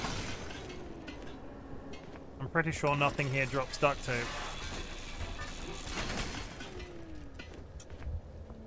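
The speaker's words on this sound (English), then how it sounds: "Start tearing parts off this car in the hope that something drops duct tape." In the Pacific Drive video game, scrap metal and glass parts are torn off a car, giving a cluster of clanking, shattering crunches in the middle, with someone talking before and after.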